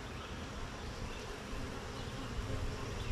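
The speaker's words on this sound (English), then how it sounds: "There are bees all over me right now." Honeybees swarm close around a beekeeper opening a hive during an inspection, a steady dense buzzing that fills the air without pause.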